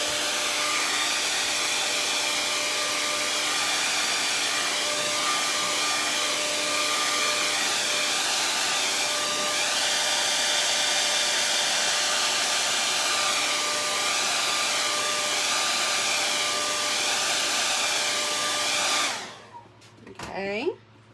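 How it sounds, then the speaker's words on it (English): A hair dryer blows steadily on fresh paint for a door hanger, a loud constant whine with a faint tonal hum that runs unbroken for nearly twenty seconds, then cuts off abruptly, leaving a brief moment of quiet. "All right, we're going to blow dry"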